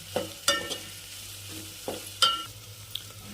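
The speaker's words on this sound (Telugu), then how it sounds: "కొంచెం గరం మసాలా ఒక 1/2 టీ స్పూన్ వేసిన తర్వాత మరి కలబెట్టాలి బాగా" Garam masala being stirred into frying Tamil Nadu style kushka masala with tomato, a spoon scraping the pan in several distinct strokes over a low, steady sizzle.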